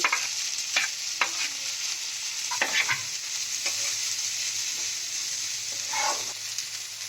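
Spring onion, green chilli, ginger and onion stir-frying for veg manchurian, a continuous close sizzle punctuated by sharp scraping strokes of a spatula against the pan every second or so.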